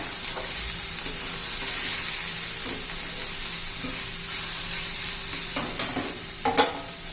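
Bitter gourd frying in a pan as spices go in, a steady close sizzle with a few sharp spatters and clinks of a spoon stirring near the end.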